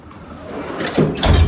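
A drawer in a large mechanic's tool box, the pry bar drawer, slides along its metal runners with a rising rolling scrape, then closes with a soft thump, close up and without talk.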